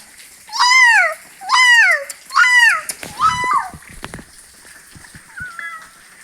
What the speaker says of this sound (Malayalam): ഇതാണ് ഞങ്ങളുടെ സുന്ദരി പൂച്ച